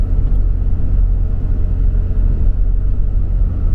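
Car with a blown-transmission history pulling under steady acceleration, a loud, dense low rumble of engine and drivetrain that continues without a clear break, heard from inside the vehicle.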